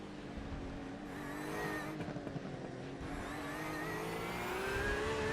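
A GT3 race car in a sim racing session at Spa-Francorchamps lifts off the throttle near the bus stop chicane, its engine note dropping into a steady loud drone with whirring tire and wind noise, no voices.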